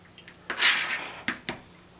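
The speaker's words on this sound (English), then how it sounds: "I'm just going to take my spoon, kind of mix this up." A spoon scrapes and clinks against a bowl while mixing a cream cheese spread with lemon juice and fresh dill, a few soft close strokes with a couple of brief taps.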